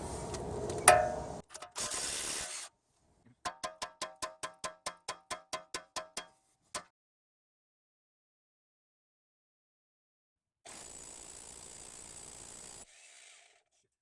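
A ratchet wrench works the 17mm nut on the outer tie rod end of a Honda Accord or Acura TL/CL steering knuckle, giving a rapid run of about a dozen sharp metallic clicks between bursts of mechanical noise and stretches of silence.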